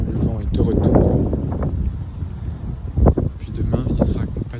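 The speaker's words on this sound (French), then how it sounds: "Le vent est de retour." Gusty southwest wind near 60 km/h at the edge of Storm Éowyn, buffeting the microphone in steady rushing waves with a sharper gust late on, while a person talks over it.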